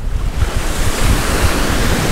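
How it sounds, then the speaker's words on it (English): Choppy ocean surf rolls in at Sebastian Inlet, Florida, a constant loud wash of breaking waves mixed with wind buffeting the microphone, with no voices. "It's a little choppy today. Nothing incredible as far as the size of the waves"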